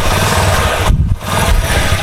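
A motorcycle with a simple PZ27 carburetor and a freshly rebuilt engine idles steadily up close, a loud continuous low rumble that dips briefly mid-way before settling back to an even idle.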